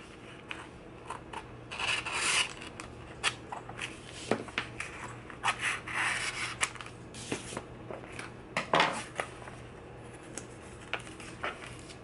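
Scissors cutting out a vinyl decal, a quiet close-up run of irregular rasping snips and rubs of blade on vinyl, with no talking.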